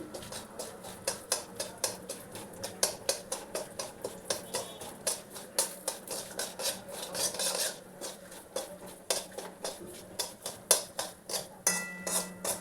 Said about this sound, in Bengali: এই ড্রাই ফ্রুটগুলো এতে দিয়ে দিলাম। এটা ভালো করে ভেজে নিই।